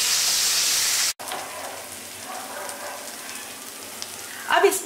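Bajra porridge stirred with spices in a hot pan, a steady loud sizzle and scraping hiss that cuts out abruptly, then continues faintly with a few stirring clatters near the end.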